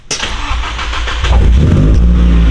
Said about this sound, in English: it sounds sick, so let's start it up